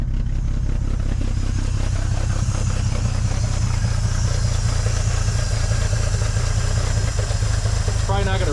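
The engine of a 1950 Dodge Meadowbrook idling up close: a loud, steady low rumble with a constant mechanical clatter, an even level throughout, and a brief higher sound near the end.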